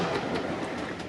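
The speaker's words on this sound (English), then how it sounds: "It's the nutty train." A toy train rolls along with a steady, fairly loud clickety-clack rattle throughout the short stretch, with no voices.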